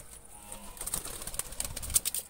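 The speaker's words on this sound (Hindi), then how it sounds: "ये सब में बड़ा कबूतर है हमारा" Pet pigeons on a rooftop, a large domestic flock, coo softly with occasional wing flutters and scattered chirps, fairly close but quiet, with no talking.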